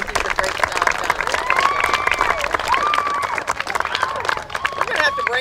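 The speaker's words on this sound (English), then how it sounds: "That's good applause" Steady crowd applause and cheering at an outdoor park ribbon cutting for a play forest, dense clapping sustained throughout with a whistle-like tone and scattered voices in the mix.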